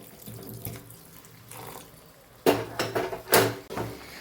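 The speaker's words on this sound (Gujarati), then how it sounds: "અહીં આપણે એક કપ જેટલું ગરમ પાણી ઉમેરેલું છે" About a cup of hot water splashes into a metal pot of mixed vegetable curry in a few short bursts, with faint clinks of cookware.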